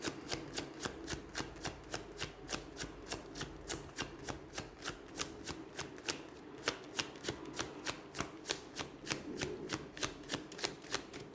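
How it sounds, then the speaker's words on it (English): Tarot cards shuffled on a table give a steady run of crisp riffling snaps, about three per second, quiet and close, with no talking. "I try not to shuffle as hard so they flip all around the table here."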